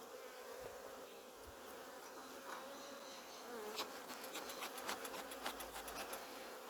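Honey bees buzzing around an opened hive during a spring check near Melbourne, a dense steady hum of many insects close by, with occasional scraping and rasping of hive parts.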